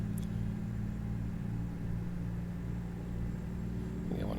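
Peterbilt 579 truck in American Truck Simulator, 2016 FedEx spec: a steady low diesel rumble at cruising load, even and continuous, with a slight rise in pitch near the end.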